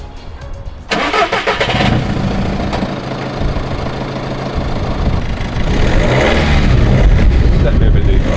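A BMW E46 330Ci with a newly fitted exhaust cranks and fires after a near-silent start, then settles into a steady, loud, close idle that rises slightly toward the end, with background voices faintly mixed in.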